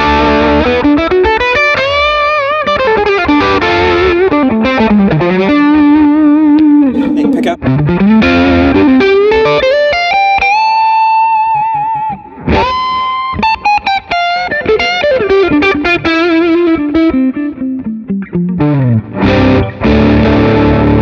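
Loud, distorted electric guitar on an Ibanez AZ Prestige through the bridge pickup with overdrive, playing sliding riffs and chords with a gritty overdriven tone, sustained and continuous throughout.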